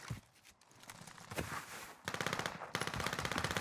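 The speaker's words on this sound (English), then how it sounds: "Oh, no, I'm getting shot from these guys." Rapid machine-gun fire in the Call of Duty Warzone video game, quiet bursts building into a fast rhythmic stream of shots aimed at the player.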